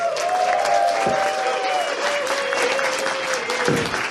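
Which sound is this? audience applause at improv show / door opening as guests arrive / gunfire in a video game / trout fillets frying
audience applause at improv show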